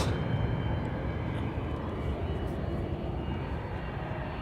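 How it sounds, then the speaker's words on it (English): A KLM Airbus A330-300 jet airliner at Amsterdam, flight to Riyadh, produces a loud steady engine roar, near and continuous, slightly fuller at the start. "KLM Airbus A330-300. Flight 425, destination Riyadh"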